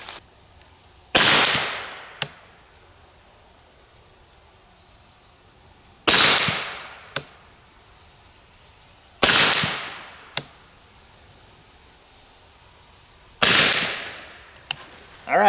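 Four sharp .300 Blackout subsonic rifle shots crack out one at a time, several seconds apart, each loud and close with a short decaying tail and a faint metallic clink just after.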